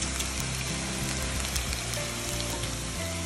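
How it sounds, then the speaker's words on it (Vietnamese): Fried sticky rice with mung bean cakes crackles in hot oil, a loud, close, continuous sizzle and bubbling with dense popping throughout and no talking. "mình chiên cho nó phồng luôn cái bánh nè"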